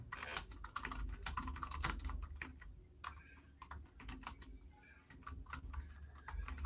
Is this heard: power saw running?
no